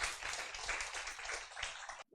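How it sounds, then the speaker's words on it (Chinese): An audience applauds at a talk, a dense, even patter of clapping that carries on for about two seconds before cutting off abruptly. "我们给嘉义分会鼓掌一下哈"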